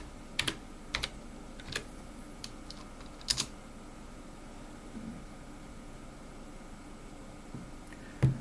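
Sparse keystrokes on a computer keyboard as the make command is typed for an ATtiny85 microcontroller project: a few separate clicks and short bursts spread over several seconds, close and fairly quiet, with no talking.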